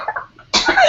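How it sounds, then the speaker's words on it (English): A single sharp cough bursts out close by, following a moment of quiet murmuring. "Turn and cough."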